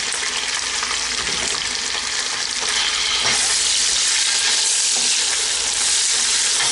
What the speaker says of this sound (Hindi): चिकन को भी इसके साथ फ्राई करूँगी। फ्लेम जो है वो हाई रखा हुआ है और उसी के ऊपर मैं इसे भून रही हूँ।